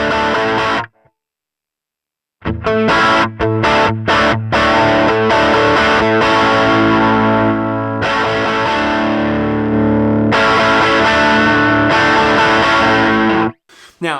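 Distorted electric guitar through a Line 6 Helix preset set up for an A/B tone comparison, a brief chord, a gap, then dense chugging riffs and sustained crunchy chords played loud and close without speech.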